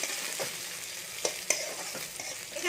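Chopped green chillies dropped into onions frying in a pan, a steady sizzle with soft stirring scrapes and a few sharper clinks, close and continuous with no voices.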